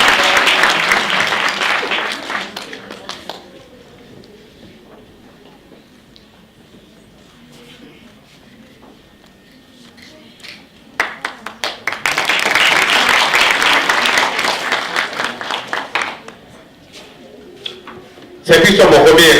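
Audience at a university STEM festival closing ceremony applauding in two bursts of loud clapping with a quieter stretch between, and a brief loud noise at the end.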